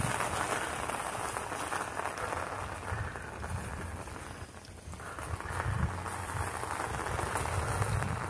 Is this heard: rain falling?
yes